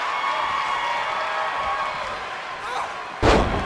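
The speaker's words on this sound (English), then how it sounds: "Earth-shaking power slam" A wrestling power slam in the WWE 2K20 video game lands as a single sharp, loud impact near the end, following steady arena crowd noise and commentary-style talk.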